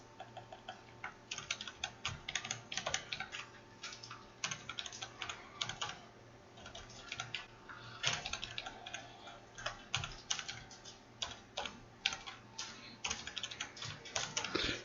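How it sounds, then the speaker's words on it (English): Quick, uneven clicking of computer keyboard keys being typed, close and fairly quiet, in bursts with short pauses and no talking. "I'll just type it here."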